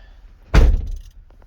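A car door shuts with one solid, heavy thunk close by, fading quickly into near silence.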